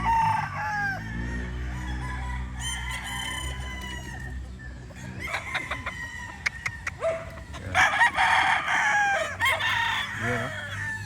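Fighting roosters kept as breeding stock crow repeatedly, several birds overlapping from near and farther off, with clucking and other farmyard noise between calls and brief voices in the background.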